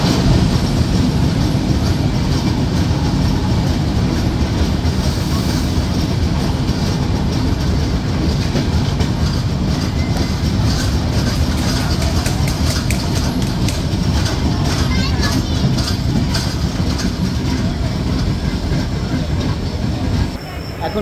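The Madhumati Express runs from Dhaka toward Rajshahi, nearing Ishwardi Junction, with a loud, steady rumble of wheels and carriages throughout, faint clickety-clack and occasional wheel squeal.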